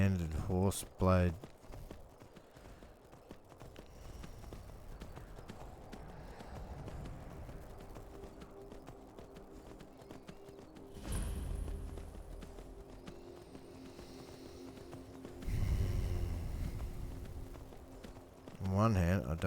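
Steady clip-clop of horse hooves at a walking pace in Skyrim, with music-like tones and brief voices, a few louder bursts along the way.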